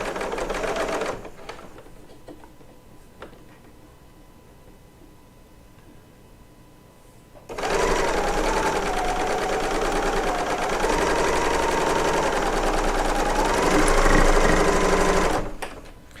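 Serger sewing machine stitching quilt pieces: a quiet stretch with a few small clicks, then a loud, steady, fast mechanical whir that runs for about eight seconds before stopping abruptly.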